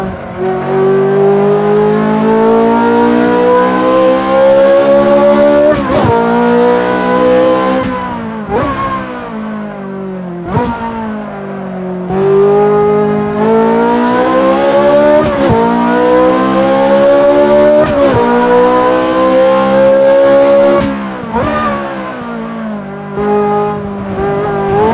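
A Ferrari F355 race car in the F355 Challenge video game, at the Catalunya circuit, with a loud high-revving engine that climbs through gears and drops on shifts and braking, plus occasional tyre squeal, continuous and close.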